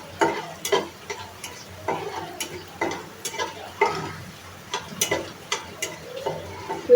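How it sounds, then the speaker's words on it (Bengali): Cardamom, cinnamon and bay leaves fry in hot oil alongside garlic cloves, a light crackling sizzle broken by repeated sharp stirring scrapes and taps of a spoon against the pan. "তো তারপর এর মধ্যে দিয়ে দিচ্ছি এলাচ, দারচিনি এবং তেজপাতা। তো এখন সবগুলি আমি একটু ভেজে নেব।"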